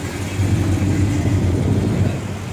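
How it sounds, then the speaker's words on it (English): A 3-liter turbocharged car engine at a car meet rumbles and builds as the turbos spool up, a loud, dense low roar that swells and holds, heard close and alone. "It's awesome with the turbos spool up."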